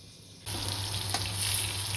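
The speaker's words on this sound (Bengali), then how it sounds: "বেগুনটাকে লাল লাল করে ভাজবো আর একটু।" Eggplant pieces frying in hot oil for begun bahar, a Bengali dish, with a steady close sizzle that starts abruptly and keeps going without a break.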